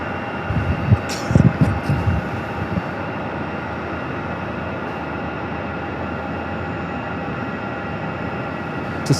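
A short train rumbles past near Phoenix Sky Harbor airport, a steady broadband roar through the whole stretch with a few louder clanks and thumps early on, fairly close and with no talk over it.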